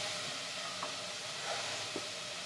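Onions frying in a pan for vegan pumpkin soup give off a constant soft sizzle and hiss with a few faint stirring scrapes, close and alone.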